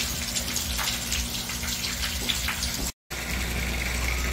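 Water pours and splashes into a tilapia tank fitted with a DIY PVC aeration system, a steady close gushing broken by one brief cut of silence, with no voices.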